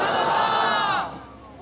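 A crowd at a religious gathering roars a slogan in unison, one loud sustained collective shout that breaks off after about a second, leaving a quieter hum of voices.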